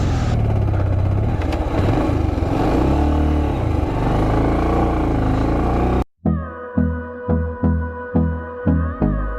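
A motorcycle engine starts and revs loudly on a freezing-cold mountain road during a ride toward Gurudanmar Lake at 17,800 feet, a dense steady roar for several seconds that cuts abruptly into rhythmic music.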